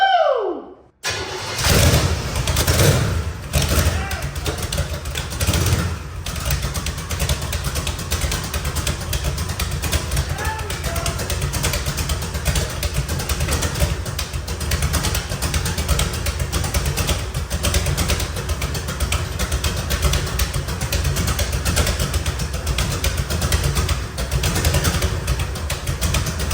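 Twin-turbo engine in a custom 1963 Corvette C2 hot rod roaring to life on its first start, then running loud, rough and steady close by for the rest of the time.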